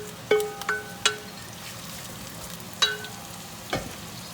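Thinly sliced red onion and chilies sizzle softly in a cast iron pan, with a few sharp clicks and scrapes of stirring standing out over the steady low frying hiss.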